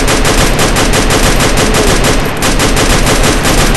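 Rapid, continuous automatic gunfire from a video game firefight, loud and sustained at a steady rhythm, with a brief dip partway through before the shooting resumes.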